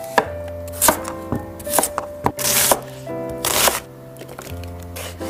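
Knife chopping through deboned chicken thigh meat on a cutting board, a series of sharp, close board knocks in uneven bursts with short gaps between strokes.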